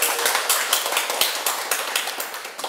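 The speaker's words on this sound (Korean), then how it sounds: "자, 이렇게 잘 해냈다고 큰 박수 부탁드립니다" Lecture hall audience applauding, a dense, steady patter of many hands clapping together at close range with no voices over it.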